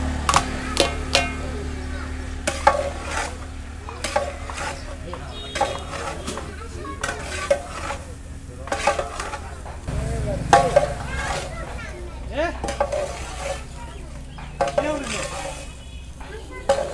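Rice and chopped carrot frying and being stirred in a pot for chicken biryani, with steady sizzling and repeated scraping stirs of a spoon against the metal, a low hum underneath and a voice talking over it.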